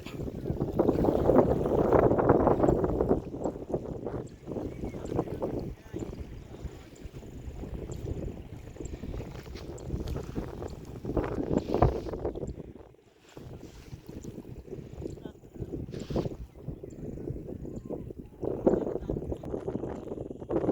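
A motor trawler chugs steadily on the Jamuna River, with wind buffeting the microphone and water rushing alongside throughout.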